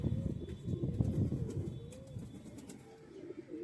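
Shahjahanpuri pigeons coo in low, continuous burbling murmurs close by, with soft chirps and faint rustling over a steady background; no voices.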